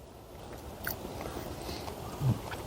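Smoked chicken with a dry rub being chewed up close, soft quiet mastication with one brief louder bite near the end, faint and low against a hushed night-time background.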